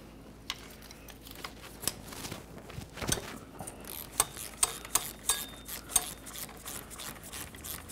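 Ratchet working an engine mount bolt on a 2011-2018 Nissan Altima, giving a series of sharp metallic clicks and ticks, irregular at first and then more regular, close but fairly quiet.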